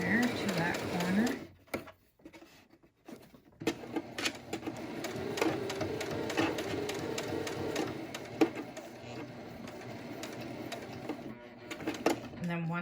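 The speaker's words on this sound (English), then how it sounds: "now I'm doing my top stitch all the way along the top" A sewing machine top-stitches a fabric face mask in a steady, fast mechanical whirring rattle that stops briefly and then runs on, close by, with speech in the background.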